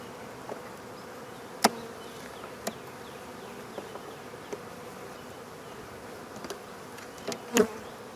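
Honey bees buzz softly and continuously around an opened hive during an April spring inspection, with a few sharp knocks and taps from handling the frames.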